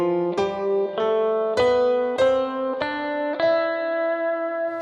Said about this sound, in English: This unique dark harmony comes from a Phrygian mode, a specific scale that sounds like this.